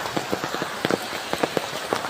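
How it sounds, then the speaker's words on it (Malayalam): Heavy monsoon rain falls nearby, a dense steady hiss broken by repeated sharp drips and splashes striking a surface at irregular intervals; no talking. "ഇന്ന് നല്ല മഴയാട്ടോ, കാലവർഷം പിടിച്ച്"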